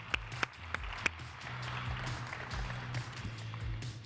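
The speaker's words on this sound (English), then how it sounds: "Let's give them a huge round of applause" Audience applause at a simulation session of the 3DEXPERIENCE World 2024 conference. A few sharp, separate claps at the start lead into quiet, steady applause over a low hum.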